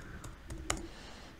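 A few quick keystrokes on a computer keyboard, three faint close clicks in a short burst as a command is typed, in a quiet room.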